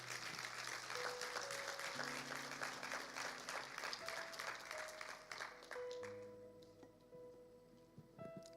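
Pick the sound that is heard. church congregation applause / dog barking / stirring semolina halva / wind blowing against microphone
church congregation applause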